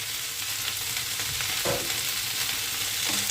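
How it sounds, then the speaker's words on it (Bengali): Cauliflower, onion and spring onion sizzle steadily in a hot wok with a constant hiss, punctuated by a few scraping stirs of a utensil against the metal. "এবার সব সবজিগুলো একসাথে ভালোভাবে নাড়াচাড়া করে নিচ্ছি।"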